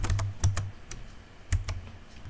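Keystrokes on a computer keyboard during Python coding, a quick cluster of clicks, a pause, then another burst of taps, close and fairly quiet.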